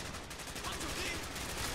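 Video game gunfire in a Call of Duty Black Ops campaign mission, a dense continuous stream of rapid shots and battle noise lasting under two seconds, loud and close, with no clear talk over it.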